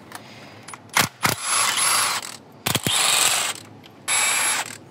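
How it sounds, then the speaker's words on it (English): A ratchet loosens the 10 mm intake manifold bolts on a 2014–2018 Silverado 5.3L V8. It gives close, sharp clicking bursts in several separate runs with short pauses between them. "Now we're going to remove all the 10 millimeter bolts that hold in the intake manifold."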